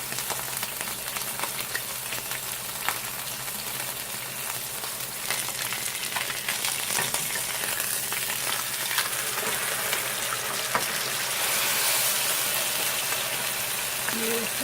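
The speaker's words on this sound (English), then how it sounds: "I'm going to let it brown a couple, or probably a few minutes on that side" A pot roast browns in a hot pan, giving off a steady, loud hiss and crackling sizzle that runs without a break, close by and alone.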